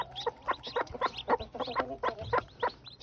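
Hens clucking together with newly hatched chicks in a hatching setup, a busy run of short, close chirps and clucks repeating in quick irregular bursts, no talking.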